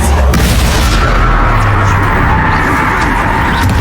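A Bombarda explosion spell from Hogwarts Legacy detonates as a loud, sustained booming blast with a rumbling crash that fills the whole stretch, close and heavy.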